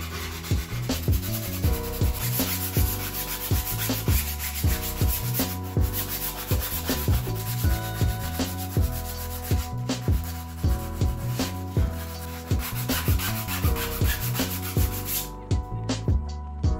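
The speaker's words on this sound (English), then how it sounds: "I need to sand the edges smooth to prepare for the major fiberglass work to come." Steady, continuous sanding of plywood rudder-blade edges to smooth them before fiberglassing, a rhythmic rubbing stroke repeating for the whole stretch, close and fairly loud with no talk.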